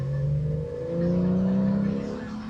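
A naturally aspirated flat-six engine in a manual-gearbox car revs steadily, its pitch rising and falling slightly across a continuous, loud, close drone with no break and no voices over it.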